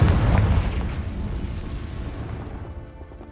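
A Confringo fire spell bursts in the video game Hogwarts Legacy, a single loud booming explosion that hits at once and then rumbles and fades away over a few seconds.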